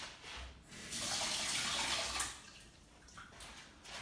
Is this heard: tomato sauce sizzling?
no